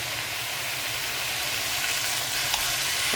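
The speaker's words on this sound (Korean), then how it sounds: "올리브 기름을 1큰술, 2큰술 넣어가 볶아줄게요." Seasoned namul greens stir-fried in olive oil in a pan, a continuous close hiss and sizzle that holds steady throughout with no talking.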